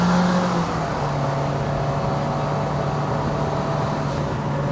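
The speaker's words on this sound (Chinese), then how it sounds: "真的是踩着油一直上哦" A 2023 Toyota Vios NGC102 climbing the Genting road in Malaysia under steady throttle, its engine droning loudly and evenly up close, with a sustained tone that holds after a brief shift near the start.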